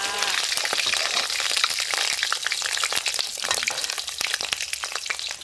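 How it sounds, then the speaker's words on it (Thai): Chilies fry in hot oil in a home kitchen, a steady dense crackle and sizzle with sharp pops throughout, close and continuous with no talking. "ตอนนี้เราจะทอดพริกก่อน"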